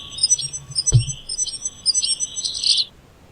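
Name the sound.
wren singing by a woodpile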